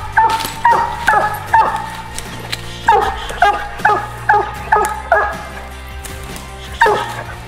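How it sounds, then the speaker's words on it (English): A black and tan hound bays repeatedly at an animal it has treed, loud and close, in a rhythmic series of barks and yips with brief pauses between bursts. "Yep, Lefty's in there treed."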